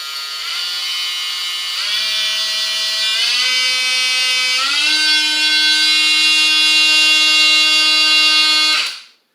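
A Lazyland Excited Work 21V cordless oscillating tool runs steadily and alone for about nine seconds, its high buzzing whine stepping up in pitch through several speed settings before cutting off abruptly.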